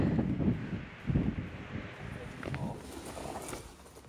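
Wind gusts across a mountain ridge on the Appalachian Trail in the White Mountains, buffeting the microphone in low, uneven rushes that rise and fall, strongest near the start, with faint outdoor background.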